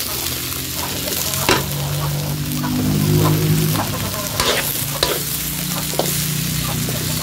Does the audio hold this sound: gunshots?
no